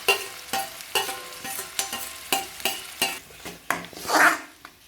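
Chopped onions dropped into hot oil for a village-style masala brinjal curry sizzle loudly in a pan, with a rhythmic series of spoon-stirring scrapes and a sharp burst of frying near the end, no talking.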